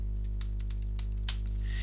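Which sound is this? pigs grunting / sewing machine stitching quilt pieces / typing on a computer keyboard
typing on a computer keyboard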